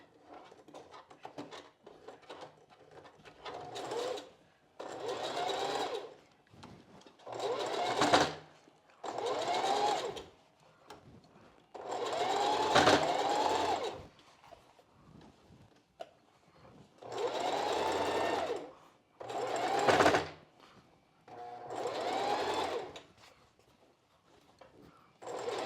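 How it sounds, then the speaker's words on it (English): A sewing machine stitches over the boning of a strapless bra in roughly nine short, stop-start whirring runs with quiet gaps between, heard up close. "I am going to try and sew over all the boning. We'll just see how the machine handles it."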